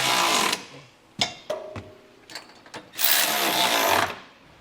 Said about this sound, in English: I'm going to go ahead and snug it up with a 3/4 inch socket